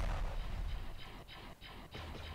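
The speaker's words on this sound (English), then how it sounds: "I mean, I still hear the tank." Tank in Ravenfield, a low, rumbling engine drone heard at a distance, with a few dull mechanical pulses, faint and steady throughout.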